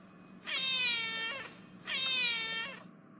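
A pair of long, moaning cat wails rise and fall one after the other, close and clear, like cats fighting overhead in a ceiling, with only faint background hiss between them.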